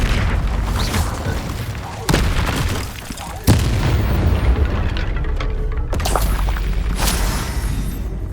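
A fire spell cast in Hogwarts Legacy: loud, sustained roaring bursts with sharp blasts near two and three and a half seconds, all dense broadband game effects with no pause.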